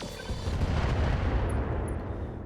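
Mech weapons firing at a Nidhogg in the video game RogueTech, a dense, sustained roar of overlapping booms and gunfire rumbling loud and continuous throughout.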